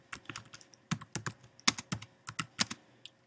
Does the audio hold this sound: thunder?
no